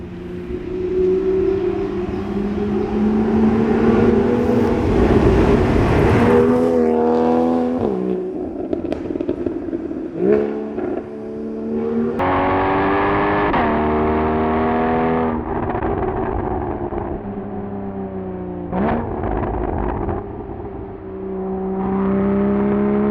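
A Porsche Cayman 981 flat-six drives a mountain road, loud and close, holding a steady drone before repeated revving climbs with upshifts, rising and falling pitch through the gears, and no talk over it.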